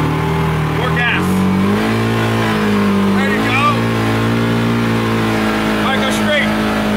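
A vehicle engine in a video game droning and climbing in pitch as it revs up in steps, loud and continuous, while a person speaks briefly over it.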